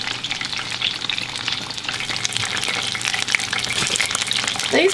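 Fish with a crunchy coating fries in a pan with a dense, steady sizzle and crackle throughout, close and fairly loud, with occasional small spatter pops and no talking.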